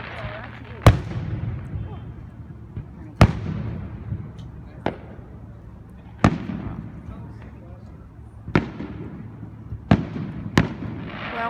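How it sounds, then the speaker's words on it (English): Fourth of July fireworks burst outdoors in about seven sharp, loud booms at irregular intervals, each trailing off into a crackling decay, with voices in the background. "And that was a huge explosion."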